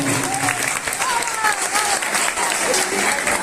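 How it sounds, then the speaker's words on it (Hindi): Loud, dense applause from an audience at a Hindi poetry gathering in Hata fills the space continuously, with a few voices calling out faintly within the clapping. "इसके लिए एक बार जोरदार तालियां बजाइए"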